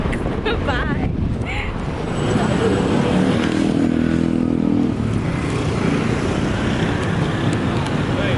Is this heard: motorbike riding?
yes